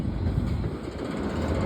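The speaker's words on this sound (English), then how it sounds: "We got a train slowing down here." A train slowing down as it passes beneath a bridge, heavy steady rumble and rail noise close by and loud, continuous throughout the short stretch.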